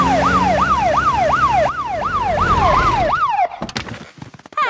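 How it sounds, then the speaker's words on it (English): A cartoon fire engine siren wails in rising and falling sweeps, loud and near, then cuts off into brief clattering sounds. "Can we use the siren again?"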